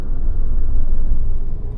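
Taxi car idling and rolling toward the ISBT stand in Bhopal, a steady low engine rumble close by with road noise, no talk.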